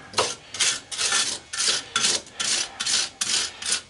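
A wire brush scrubs dirt off the motor mount bolts of a scrap push mower in eight or nine quick, rhythmic rasping strokes, each a close, harsh scratch with brief pauses between.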